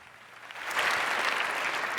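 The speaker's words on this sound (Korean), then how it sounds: "다시 한번 박수를 보내주십시오" A gathered audience at a church meeting breaks into applause, a soft start swelling within a second into an even wash of clapping that holds to the end.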